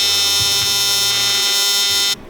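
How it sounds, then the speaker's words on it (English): A small tab for the grill of a Mighty Max drift truck's aluminum tube front end is tack welded, making a loud, close, steady buzzing hiss with a few faint pops that cuts off sharply near the end. "Grill tab tacked up."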